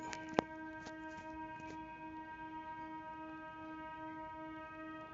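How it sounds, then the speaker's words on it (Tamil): A train passes nearby with a steady tonal drone and a sharp clank near the start, the sound holding evenly throughout without voices. "பக்கத்தில் ட்ரெயின் போகுது"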